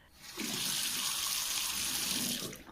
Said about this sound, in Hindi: तभी आंगन में खुले हुए नल ने कहा।